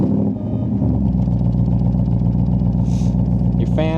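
Coyote V8 engine in a 1965 Backdraft Racing Cobra replica fitted with a TKO 5-speed Tremec, catching and settling into a loud, steady, throbbing idle close by.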